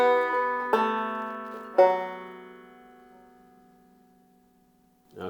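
A banjo picks a bar of the Jingle Bells melody, a few plucked notes and strums that ring out and slowly decay into near silence, played alone without voices.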